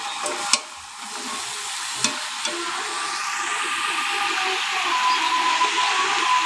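Cabbage fries in a pan with a steady, fairly quiet sizzle and a few sharp utensil clicks near the start, heard close with no talking.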